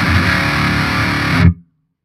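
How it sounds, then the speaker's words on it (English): A distorted electric guitar chord, EQ-matched, rings with a hollow, swirling phasey tone, then cuts off abruptly into silence. "you'll get a weird phasey sound like this."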